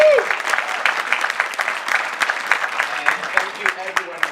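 Applause from the audience at a film screening Q&A, a moderately loud round of clapping with individual claps standing out, and a voice briefly heard under it.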